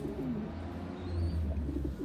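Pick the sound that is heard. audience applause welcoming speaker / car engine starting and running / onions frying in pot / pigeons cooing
pigeons cooing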